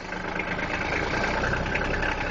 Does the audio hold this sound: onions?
no